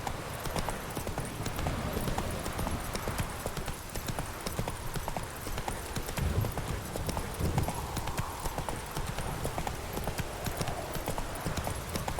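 Horse hooves clip-clop steadily and briskly in The Witcher 3 as the horse travels, with a continuous rhythmic beat over ambient game sound and a voice speaking faintly in the background.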